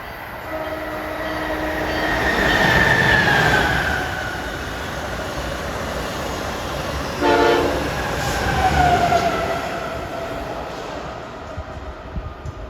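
An Acela passenger train rumbles past at close range approaching Trenton station, its steady roar swelling and fading, with a sustained horn blast near the start and clacking wheels midway.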